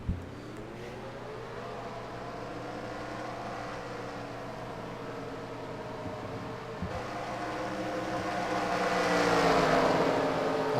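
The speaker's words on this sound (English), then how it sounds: "Drivers, start your engines!" A steady mechanical drone of 40 race car engines in a stock car racing video game hums at a distance at Kentucky, slowly swelling louder toward the end.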